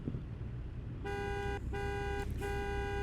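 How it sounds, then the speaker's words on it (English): A car horn in American Truck Simulator sounds in three honks of differing length over a low rumble, the middle one brief, the last held longer. "We have a car horn for some unknown reason"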